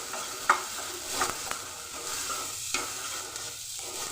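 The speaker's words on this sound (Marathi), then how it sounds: "लसूण आणि अद्रक ह्याच्यामध्ये थोडंसं टाकून अजून 2 मिनिटं परतते." Garlic and ginger sautéing in a pan for a soybean curry, with soft sizzling under quiet stirring and a few sharp utensil scrapes and taps against the pan.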